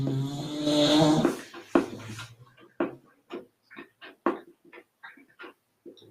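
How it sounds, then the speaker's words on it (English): Loud, steady snoring from someone sleeping nearby, a regular series of rasping breaths repeating about every half second after a louder, noisier opening. "Tallulah, no loud snoring, dear"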